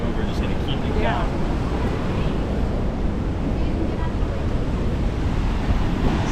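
Rushing water of the Yellowstone River rapids near the Upper and Lower Falls, a steady broadband roar close by, with wind buffeting the microphone throughout.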